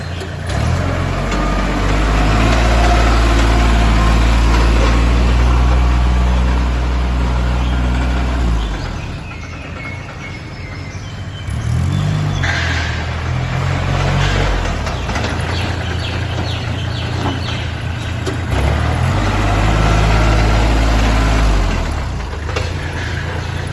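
A used Kubota L3408 tractor fitted with a front loader runs steadily close by, its diesel engine holding a loud, even idle. A short dip comes before the engine rises again, with no talk over it.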